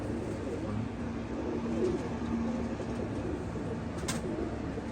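Pigeons in a rooftop loft give a few soft, low coos over a steady background hum, fairly faint and close, with no clear talk.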